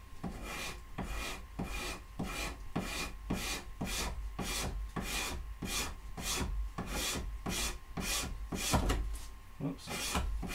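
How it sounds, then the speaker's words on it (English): A hand scraper works across a pallet wood board around a knot where the grain switches direction, making about twenty quick, rhythmic rasping strokes at an even pace, fairly close but quiet. "this is going to require a lot of scraping."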